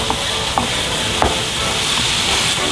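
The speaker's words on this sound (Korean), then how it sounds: "미리 양념해놓은 음식을 볶겠습니다" Pre-seasoned beef stir-fried in a frying pan without oil for a glutinous rice porridge: a steady, loud sizzle throughout, broken by a few sharp scrapes and clinks of the utensil against the pan.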